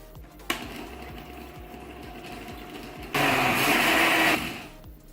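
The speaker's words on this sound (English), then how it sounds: "Let's blend this all the ingredients." An electric blender whirs through leche flan batter of cream cheese and eggs, starting with a click into a steady motor drone, then surging louder and brighter for over a second before winding down, close up with no talk.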